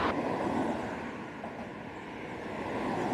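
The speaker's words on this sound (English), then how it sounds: "I do apologise for the awful traffic noise" Steady, loud traffic roar from a busy bypass bridge over the River Severn at Bewdley, a continuous broadband rush of passing vehicles with no pauses or speech.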